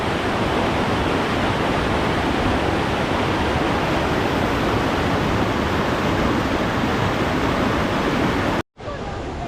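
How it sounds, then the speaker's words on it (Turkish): A constant, roaring rush of water at Tomara Waterfall in Gümüşhane, Turkey, fills the whole clip, loud and close, cutting out briefly near the end. "Tomara Şelalesi'ndeyiz."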